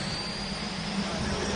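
Jet engine on an aircraft carrier deck spooling up for a catapult launch test: a steady, continuous whine and rumble holding at an even level throughout, with a faint high tone above it.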